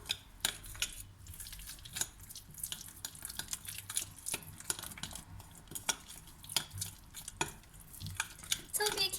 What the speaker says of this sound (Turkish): Şimdi bunları şöyle bir karıştıracağım